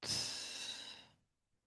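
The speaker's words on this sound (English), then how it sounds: "Take a deep breath in and out." A single deep, audible breath, a soft airy exhale lasting about a second and fading to silence, close and quiet during a guided ceremony.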